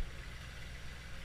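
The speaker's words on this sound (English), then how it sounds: "It's got a great exhaust sound to it." A low, steady rumble of a cold car engine idling, with a constant loud, throaty exhaust drone and no voices.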